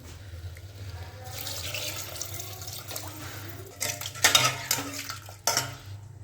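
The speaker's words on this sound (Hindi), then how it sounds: "चलो अब इसमें थोड़ा सा पानी और डाल देते हैं" Kitchen clatter of a pressure cooker and utensils with water sloshing in for a vegetable dish, a few sharper metallic clanks near the end, no talking.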